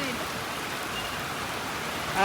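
Steady rain falling on an outdoor fish market, a soft, even hiss of drops that continues throughout with no break.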